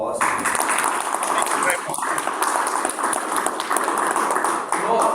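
An audience gives a speaker a round of applause after an investment fundamentals talk, with a steady wash of clapping lasting several seconds, heard up close and fairly loud.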